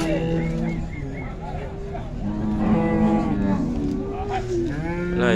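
Dairy cows, including a Holstein, mooing at a milk-cow fair in Capoeiras, Pernambuco; several drawn-out low moos overlap one another amid crowd noise and passing vehicles, with people talking nearby throughout.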